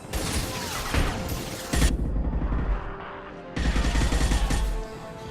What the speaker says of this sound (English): I've got the sound of gunfire and explosions going on